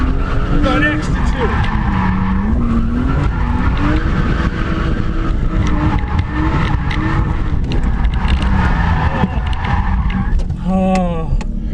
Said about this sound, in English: There's a lot of commitment in this car to make this do a skid.